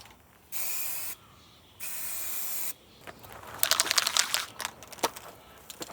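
A spray paint can coats engine parts in two steady hissing bursts of around a second each, close and fairly loud. Sharper rattling, clattering sounds follow, with no talk.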